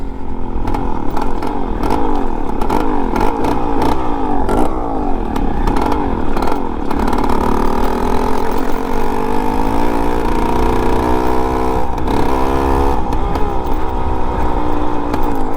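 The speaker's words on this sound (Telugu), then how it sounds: "అంటే 2 స్ట్రోక్ రిథమ్ మిస్ కాకుండా వస్తుంది" A Suzuki Max 100 two-stroke dirt bike conversion running close by, a loud continuous buzzing engine with rhythmic blips of the throttle rising and falling, then settling to a steadier rasping idle.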